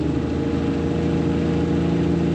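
A race car engine idles steadily while being prepped for King of the Hammers off-road racing, a loud continuous low rumble with no talk over it.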